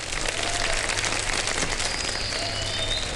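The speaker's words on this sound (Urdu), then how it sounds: "ان کے لیے تالیاں بجا دیں." Studio audience of a Ramadan iftar TV show applauds in a dense, continuous patter of clapping, steady and fairly soft throughout.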